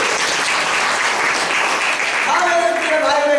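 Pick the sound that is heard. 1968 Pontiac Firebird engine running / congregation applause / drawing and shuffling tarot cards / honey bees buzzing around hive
congregation applause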